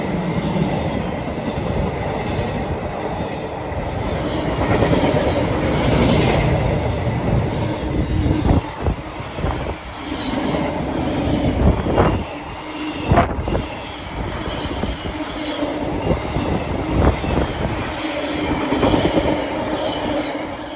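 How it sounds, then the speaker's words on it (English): A Class 66 diesel freight train runs from Trafford Park toward Sutton on the Coventry to Leamington line, producing a steady heavy rumble with rhythmic clicks of wagon wheels over rail joints and occasional squeals throughout, fairly loud and continuous with no speech. "here we have a freight going to Sutton from Trafford Park. 66."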